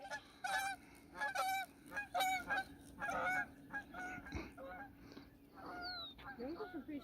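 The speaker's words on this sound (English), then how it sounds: "Fly over me, geese." Geese honking repeatedly overhead in a park, a series of strong honks in bursts that fade and return, with faint speech near the end.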